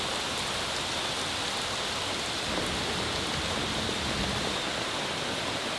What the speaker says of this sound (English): It's another rainy day here in Ohio.